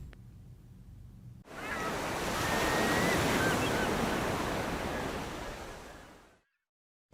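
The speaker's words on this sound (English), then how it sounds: "Tsunami, a killer wave, speeding across the ocean at 400 miles an hour" Ocean surf crashes in a broad roaring wash of noise that swells, holds for several seconds, then fades out abruptly, with no talk over it.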